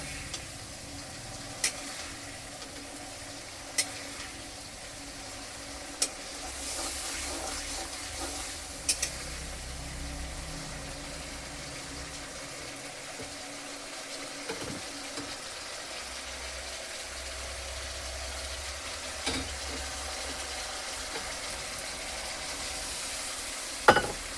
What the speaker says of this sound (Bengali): এই যে মশলাটা আমার প্রায় কষানো হয়ে গেছে।